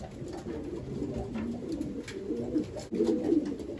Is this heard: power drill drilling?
no